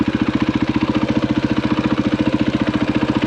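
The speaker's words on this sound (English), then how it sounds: "Let's turn that engine off." A motorcycle engine idles close by with a fast, even pulsing chug that stays steady and loud for a few seconds, no voices.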